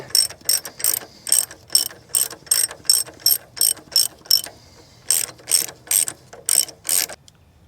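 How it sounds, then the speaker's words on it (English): A ratchet clicks in about fifteen quick bursts, separated by short pauses, as the drive chain is loosened on a Kawasaki H1 500 Mach III motorcycle that has sat unused for 42 years; loud and close, with no talk. "Let's get that chain off."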